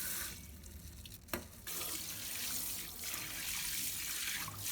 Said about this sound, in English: Then, rinse thoroughly with running water.